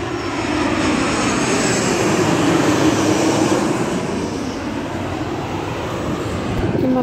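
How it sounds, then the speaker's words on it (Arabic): A fixed-wing passenger airplane roars overhead, a loud steady engine rumble and rushing drone that swells slightly and holds throughout, with no voices over it. "ها هي طيارة، لافيون الثالثة، طيارة طائرة"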